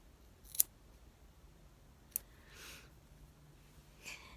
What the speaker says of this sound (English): for this hair here, I'm going to take and cut it in half